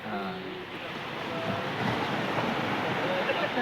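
Sea waves roll steadily onto the beach at Uran village, a soft continuous wash of surf with wind buffeting the microphone, fairly faint and even throughout.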